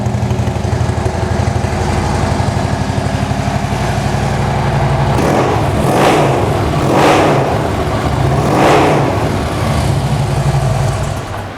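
A Harley-Davidson Road King FLHR motorcycle with RC slip-on exhausts idles with a loping rumble, then is revved three times in quick succession, each blip rising and falling, loud and close with no talk.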